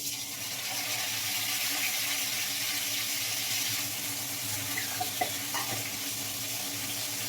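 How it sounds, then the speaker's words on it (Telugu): Stuffed brinjals, the Andhra gutti vankaya style, dropped into hot oil in a home kitchen, giving a steady close broadband sizzle with a few soft clinks and splashes, no voices. "ఇంట్లో ఆయిల్ వేడైపోయిందండి ఇవన్నీ జాగ్రత్తగా దీంట్లో డ్రాప్ చేసేసుకుందాం"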